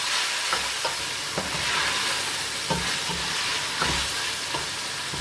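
Cubed onions sautéing lightly in a pan for chicken cheese pasta, giving a steady soft sizzle with occasional scraping and stirring knocks at irregular intervals, close and moderately quiet.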